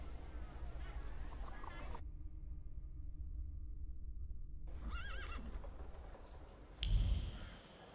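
A horse whinnies loudly near the end in the video game The Thaumaturge, a single sharp neigh rising over steady game background sound, with a brief quiet stretch earlier.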